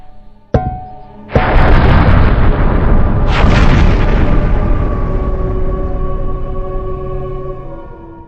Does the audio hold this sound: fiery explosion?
yes